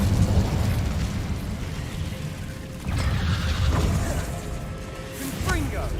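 The Incendio fire spell cast in Hogwarts Legacy, heavy booming bursts and rumbling blasts from the game, with a voice talking over them.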